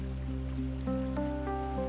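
Steady soft rain hiss, like drops falling on a surface, runs continuously beneath sustained gentle tonal notes, even and calm throughout.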